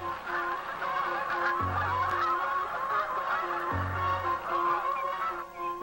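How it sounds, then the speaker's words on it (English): Geese honk repeatedly in a noisy flock, with overlapping calls at moderate distance alongside a steady chorus of other birds, and two deeper, buzzing honks standing out nearby. "Geese and the ducks, all the birds come back."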